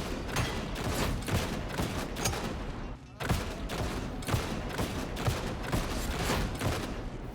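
Bastion shotgun in a Warhammer 40,000 game firing at full rate, aimed and from the hip: a steady run of sharp blasts about three per second, a brief pause, then another even volley, close and loud.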